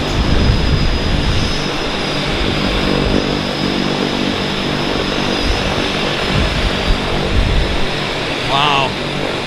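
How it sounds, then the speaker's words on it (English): A Twin Otter floatplane's propeller engines drone steadily at Vancouver Harbour, a continuous broadband roar that holds fairly loud throughout with no talk over it. "Just love my Twin Otter action."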